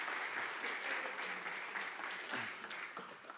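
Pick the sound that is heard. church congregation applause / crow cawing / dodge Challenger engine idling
church congregation applause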